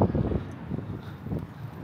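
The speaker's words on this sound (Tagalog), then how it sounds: "Pero yung ang lakas ng hangin." Strong wind buffets the microphone in steady low rumbling gusts, with no other clear sounds, in Busan, South Korea.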